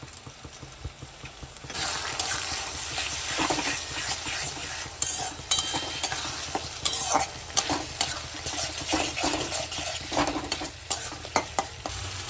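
Ginger, garlic, cumin, coriander and green and dried chilli paste frying with onions for a desi-style chicken curry, a steady loud sizzle with stirring scrapes throughout, no talking.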